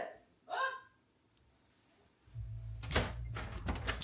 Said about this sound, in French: Doudou, il y a une poule.